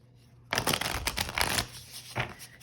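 A Wilder Heart Studios tarot card deck is shuffled close up, a quick rustling riffle of cards that rises suddenly and runs in a dense burst with a short second flurry after a pause.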